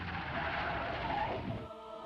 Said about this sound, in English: and Wayne stepped on the brakes.